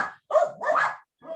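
Several dogs barking in short, loud bursts close by, with a brief pause before a final, softer bark.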